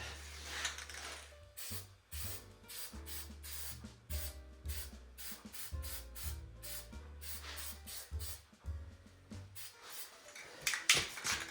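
Spray paint hisses from a can onto the frame of a Western plow, coming in many short repeated bursts with brief pauses between them, close and fairly quiet with no talking.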